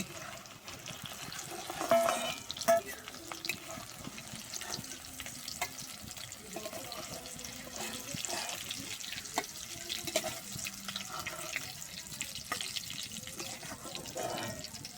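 Cabbage and egg fritters fry in oil in a karai, giving a steady, moderate crackling sizzle with scattered pops and a few louder bursts near the start, running continuously without speech.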